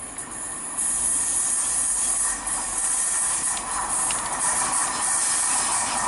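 A train passes through Devonport station on the Cornish main line, a loud close rushing roar with hiss and rail noise that swells after the first second and holds steady.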